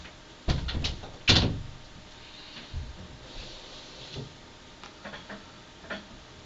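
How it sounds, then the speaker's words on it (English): Door closing with a couple of sharp thumps and a clack early on, followed by lighter knocks and clicks of handling, close by in a quiet room. "Elaine, can you close my door, please"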